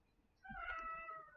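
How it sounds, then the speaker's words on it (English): A house cat meows for attention, one drawn-out, harmonic meow that rises and falls, heard close and alone over faint background hum. "my cat wants attention"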